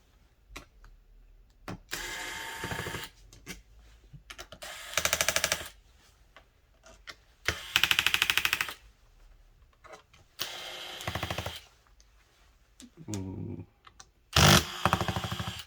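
Screws being removed from the underside of an MSI GP66 15-inch gaming laptop, heard as repeated bursts of close, loud whirring and ratcheting from a screwdriver, separated by short quiet gaps, with no talking.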